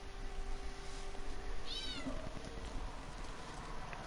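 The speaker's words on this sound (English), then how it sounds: "Meow!" A cat meows once, briefly and faintly, in a room with a steady hum, during an Outer Worlds gaming session.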